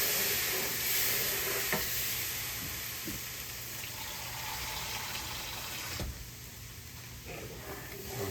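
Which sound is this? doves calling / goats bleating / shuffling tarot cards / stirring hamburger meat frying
stirring hamburger meat frying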